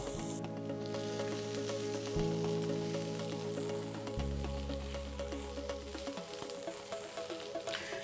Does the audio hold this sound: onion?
yes